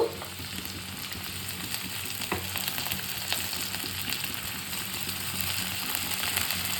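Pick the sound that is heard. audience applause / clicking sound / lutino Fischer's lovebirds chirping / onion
onion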